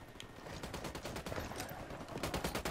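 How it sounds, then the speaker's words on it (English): Rapid automatic gunfire in the tactical shooter Ghost Recon Wildlands, a steady string of sharp shots in quick bursts, moderately distant and alone without talk. "I'm shooting these fuckers."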